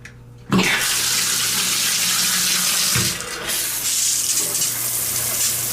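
Hotel shower head at the Four Points by Sheraton Philadelphia Airport running at full power: a hiss of spraying water cuts in abruptly and continues loud and steady with a slight dip, no talking.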